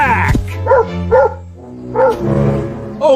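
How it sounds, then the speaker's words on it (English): A big cartoon dog barks several times in loud, close yips and woofs, spaced in a quick irregular rhythm, with a voice briefly heard alongside. "Oh no! A big dog!"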